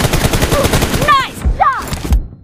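Rapid gunfire in a mobile team deathmatch shooter game, dense bursts of shots running throughout, with game voice chatter and effect sounds layered over the shooting.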